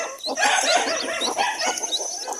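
Newly hatched chicks cheeping in a dense chorus of high, rapid peeps, close and fairly loud, with no talking.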